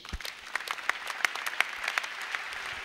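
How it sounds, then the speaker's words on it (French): A church congregation claps together, a steady patter of many hands at moderate distance that builds slightly, with no talking over it. "Acclamons Jésus"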